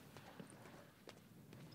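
Hooves of a pale horse clip-clopping at a walk as a film sound effect, a few faint scattered hoof strikes over a low, quiet background hum.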